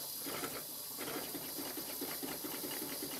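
A small Stuart triple expansion steam engine in a workshop hisses and chuffs in a quick, rhythmic pattern as it turns over to clear condensed water, fairly close with a steady background hiss.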